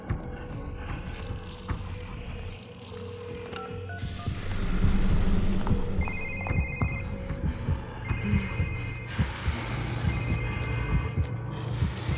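A telephone rings in a stealth video game, repeated electronic ring bursts with mechanical clicks and a low throbbing background, fairly loud and without speech.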